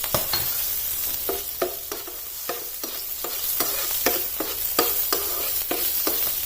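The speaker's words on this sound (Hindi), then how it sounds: "लहसुन को और इस हरी मिर्च को इसमें फ्राई होने देना है।" Chopped garlic, green chillies and crushed red chilli frying in a pan for Singaporean rice: continuous oily sizzle with regular scraping stirs roughly every third of a second, close and steady, with no talk.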